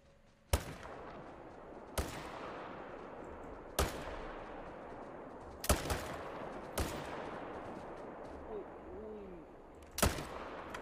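Six sharp, loud rifle shots in theHunter hunting game, fired at a white water buffalo, ring out one at a time with irregular gaps. Each crack decays into a fading echo over a soft outdoor background with faint bird calls.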